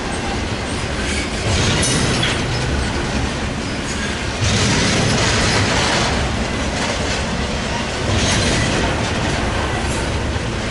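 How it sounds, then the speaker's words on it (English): A freight Z train loaded with UPS trailers rolls past at Commerce, loud and close, with continuous rumbling wheels, rhythmic clickety-clack over rail joints and faint squeals throughout. "Yeah, this looks like a Z train to me."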